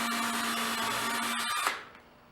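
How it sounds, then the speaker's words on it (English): A power drill whirs steadily as it drives a screw straight into wood while building a tire-based firewood-splitting rig, then cuts off abruptly and a faint room tail lingers. "when I'm starting my screws, I always start in straight and barely go in just to get the drill bit started"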